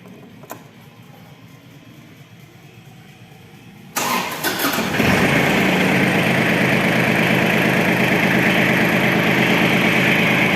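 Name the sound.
ISEKI SIAL223 Japanese mini tractor engine started and idling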